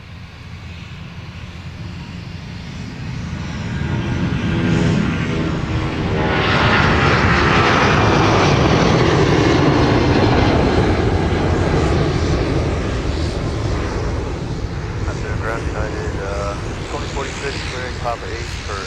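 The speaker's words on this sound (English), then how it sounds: "757 departure off 30 left." A Boeing 757 jet takes off from runway 30 left at Minneapolis–St. Paul Airport, its loud, broad engine roar building over several seconds and holding steady with some faint background voices.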